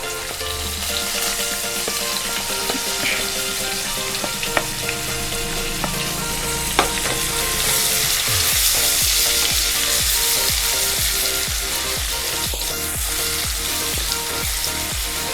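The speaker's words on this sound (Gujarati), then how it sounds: "તેલ આપણું ગરમ થઈ ગયું છે તો હવે આપણે ચપટી હિંગ નાખશું પછી આપણે ડુંગળી નાખશું" Onion and a pinch of asafoetida frying in hot oil, a dense, steady sizzle that grows busier and crackles more after about eight seconds, close with no talking.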